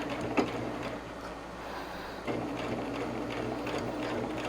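Sewing machine backstitching binding on a quilted table runner, a faint steady mechanical whir with a couple of sharp clicks and a shift in pace partway through.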